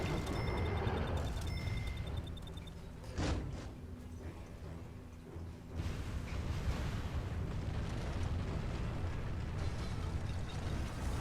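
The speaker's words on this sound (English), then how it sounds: "Don't call in the airstrike on the bunker until you're within range." A big, rumbling blast from an airstrike on a bunker in the video game Mercenaries 2, the roar rolling on and swelling again as debris and fire keep booming for several seconds, loud and without voices.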